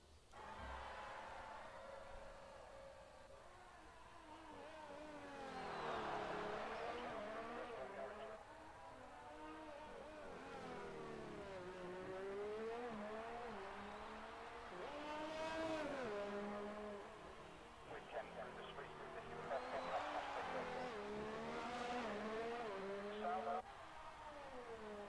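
Race car engines at the Azerbaijan GP in a racing video game, a high whine that climbs and falls as the cars rev through gears, fairly faint and continuous throughout.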